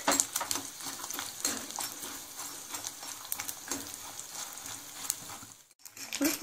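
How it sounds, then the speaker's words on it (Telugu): Peanuts and tempering seeds crackle and sizzle in about two spoons of hot oil in a pan, a steady close frying hiss with scattered pops and a brief lull near the end. "పల్లీలు సగం వేగిన తర్వాత పోపు గింజలు కూడా వేసేసుకోవాలి"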